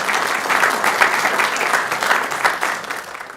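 A council meeting audience gives a round of applause, steady full-room clapping throughout, fairly loud and even with no voices over it.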